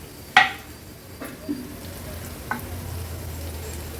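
Soft onions in a pan with a quarter spoon of turmeric just added, cooking over a very low flame, give a steady quiet sizzle with a few sharp clinks and stirring scrapes near the start.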